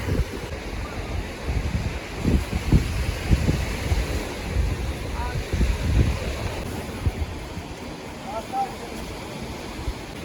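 Waves wash onto a sea beach in September under steady wind, a dense rolling roar with gusting buffets against the microphone, fairly loud and continuous without clear breaks.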